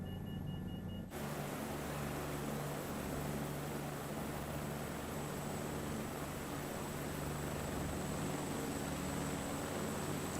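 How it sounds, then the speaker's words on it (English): A Chinook helicopter flying in Microsoft Flight Simulator 2024, its rotor and engine roar holding as a steady dense drone with a low hum, loud and continuous throughout. "I'm gonna fly my Chinook again"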